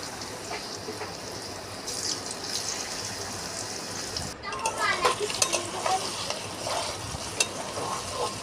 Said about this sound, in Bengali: আর পনিরটা ভেজে নেব